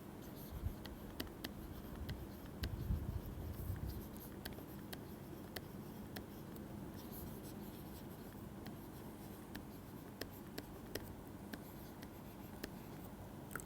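Writing on a board during a mathematics lecture on linear transformations, heard as faint, steady scratching strokes with small taps, fairly quiet and continuous, with no speech.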